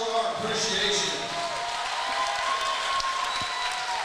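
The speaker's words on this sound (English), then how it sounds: "Let's give a round of applause, show our appreciation" Crowd applause fills an arena at an Elevate Fighting Championship fight event, a loud, steady wash of clapping and crowd noise that holds for the whole stretch.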